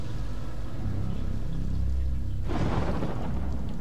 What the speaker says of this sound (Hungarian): Lehet csak villámlás.